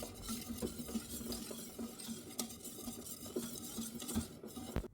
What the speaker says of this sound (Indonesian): Ini harus tetap diaduk agar bagian bawahnya tidak gosong